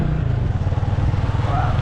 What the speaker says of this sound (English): We're on the motorbike.